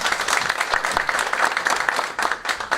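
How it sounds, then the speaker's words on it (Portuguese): Steady crowd applause at a forum with candidates for senator, dense clapping from many people at a lively, even pace, loud and close throughout. "Uma salva de palmas."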